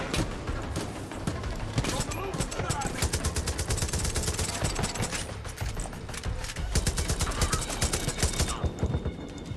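Rapid bursts of gunfire from the Far Cry 5 video game rattle out in dense volleys, loud and continuous, with sharp individual shots layered over one another and a few brief lulls between them.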